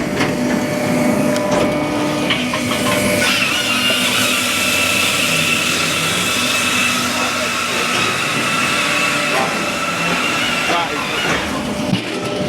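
Continuous loud mechanical whine and rumble from an automatic firewood processor cutting and splitting logs, with intermittent clunks and knocks throughout; a person talks over the machinery.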